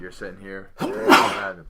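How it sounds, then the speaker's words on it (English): A person sneezes once, loud and close, during a casual home conversation, following brief talk and ending in a sharp broadband burst. "You can sneeze all you want."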